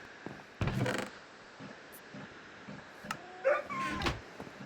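Minecraft dogs yip and whimper in short bursts, a couple of brief barks rising over quiet game ambience at moderate distance.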